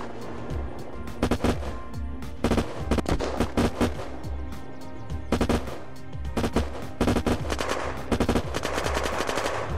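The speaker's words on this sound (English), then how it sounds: "There's just so many shots everywhere" Dense gunfire in an Unturned arena PvP match, rapid bursts of automatic shots and single cracks layered over a constant noisy battle background, with no speech.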